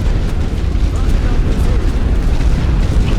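Mortar rounds pound trenches in the First World War strategy game The Great War: The Western Front, giving a loud, dense, continuous rumble of close explosions with no clear pauses.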